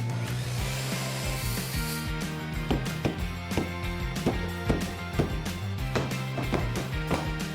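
Wood being shaved down by hand to fit during renovation of a 50-year-old traditional Japanese house, a steady series of rhythmic rasping strokes, close and fairly loud, over a low background hum.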